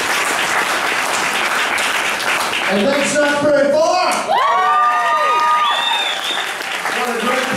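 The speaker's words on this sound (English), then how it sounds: "Please give yourselves a big round of applause." An audience at a live country music show breaks into sustained applause and cheering, with whoops and children's shouts in the crowd, while someone speaks over the noise.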